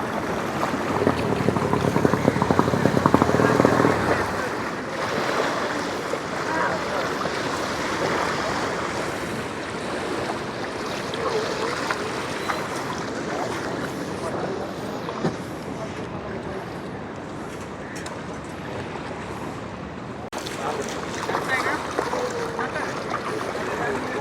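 A boat carrying people, including children, approaches across the sea with a steady broadband rush of engine, water and wind, loudest at the start and then continuing evenly.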